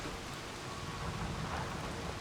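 Steady, dense rain hisses without a break, with a low rumbling underneath like distant thunder, in the video game Season: A Letter to the Future.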